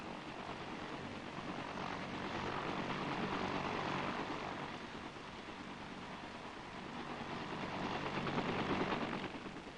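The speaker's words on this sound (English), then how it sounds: "The armed escort takes off, alert to cut down any Viet Cong who may be hiding in the ever-present jungle." Armed escort helicopters of the US Army take off during operations in Vietnam, giving a steady, loud rotor and engine roar that swells and fades slightly over ten seconds with no talking.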